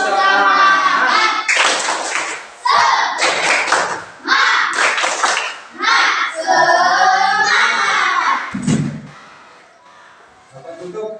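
A class of children performs the tepuk semangat clapping chant, with rhythmic group claps and slaps mixed with loud chanting voices in bursts, ending in a single sharp thump and quieter murmurs.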